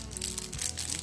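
Package of fine-tip brushes being cut open, a short burst of crinkling and crunching plastic, close and fairly loud, lasting about a second.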